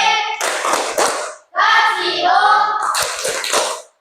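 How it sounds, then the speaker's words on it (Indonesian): Schoolchildren in a classroom do a rhythmic cheer clap for group 2, short bursts of hand claps mixed with children's voices chanting, with a brief pause in the middle. "tepuk wow untuk kelompok 2"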